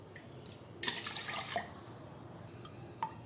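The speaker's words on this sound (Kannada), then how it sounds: "ನೋಡಿ, 5 ಕಪ್ ನೀರು ಹಾಕಿದ್ದೀನಿ." Water is poured into a tall cooking pot for boiling finger millet, a burst of splashing and trickling with scattered drips and a final plop, fairly quiet and close with no talk.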